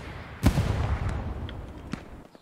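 Gunfire in the World War II shooter Hell Let Loose: one sharp close shot followed by a few fainter scattered distant reports over low battlefield rumble.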